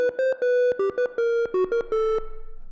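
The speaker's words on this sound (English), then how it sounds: "I have the synthesizer set to produce a very basic square wave sound" A synthesizer set to a basic square wave plays a quick run of short, buzzy, hollow notes, clipped and staccato at close range, ending with a faint fluttering tail.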